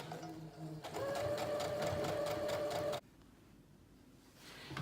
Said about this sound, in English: I'm gonna go ahead and do the blind hem stitch on the machine